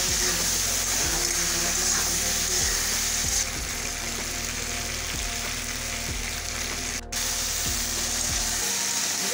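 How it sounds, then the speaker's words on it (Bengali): Raw banana frying in oil with cumin and bay leaf, a loud, steady sizzle close to the pan, broken by periodic scraping strokes of a spatula. "কলাটা আমি ভালো করে ভেজে নেব, আর একটু ভেজে নেব"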